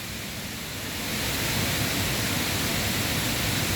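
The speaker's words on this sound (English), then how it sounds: "This is the waterfall." A waterfall in Chiang Mai, Thailand roars as steady broadband rushing water, close and loud, swelling slightly after the first second and then holding constant with no voices.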